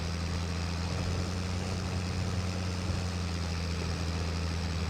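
A tractor engine in Farming Simulator 25 pulling three carts full of grain, a steady low drone that holds at an even level with no change in pitch and no talking.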